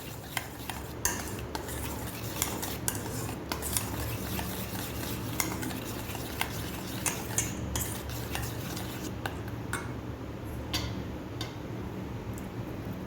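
A spoon stirs saffron milk into kesar tutti-frutti shrikhand in a bowl, with steady close scraping and repeated light metallic clinks against the bowl throughout.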